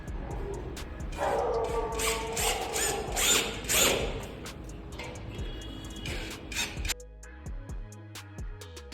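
Screws are driven into an aluminium frame with a power tool, giving a dense, close run of ratcheting, clicking mechanical noise for about seven seconds before it stops and only sparse faint ticks remain.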